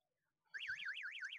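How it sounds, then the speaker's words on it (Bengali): An electric horn wired to a water tank float switch sounds, a faint electronic warbling tone rising and falling in quick regular cycles that begins after a short silence. "এই যে হর্ন বাজতেছে।"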